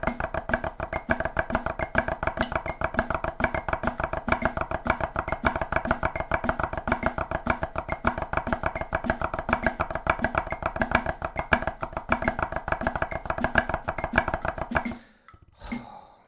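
Fast, even drum strokes played with heavy sticks, a steady rapid stream of hits lasting about fifteen seconds at strong level before stopping abruptly.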